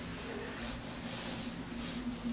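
Hands rubbing spice rub onto baby back ribs, a steady soft scraping and brushing of palms over the meat with a few firmer swipes, close and continuous, without talking.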